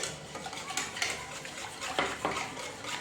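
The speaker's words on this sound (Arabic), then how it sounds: "هكذا نحركو هذه المايزينا، يعني بارد في بارد، الحليب بارد" A spoon stirs cornstarch into cold milk in a bowl, giving soft scraping swirls with a few clinks of utensil against the dish, steady and close.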